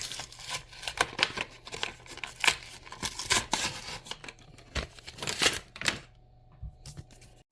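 Ballpoint pens being unpacked from their plastic packaging at an art desk, a busy run of close crinkles, clicks and rubbing scrapes that stops near the end.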